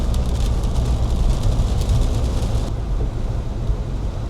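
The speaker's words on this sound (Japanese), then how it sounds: "すごいね雨が。" Heavy rain around a camper van on a road trip near Lake Tazawa in Akita, a dense continuous roar mixed with road and engine rumble, loud and unbroken.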